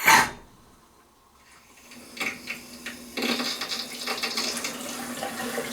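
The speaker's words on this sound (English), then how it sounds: "the faucet is in place. We're going to go ahead and turn that on. You're probably going to get a little bit of an air squirt." Water from a newly installed faucet on a vessel sink set on a dresser converted to a vanity: an initial sputter, then a steady stream splashing into the bowl, growing louder and continuous.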